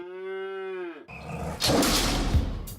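An ox in northern India gives a long, loud, harmonic low near the microphone, then working sounds of a pair of oxen pulling a plow follow with rough noise and thuds.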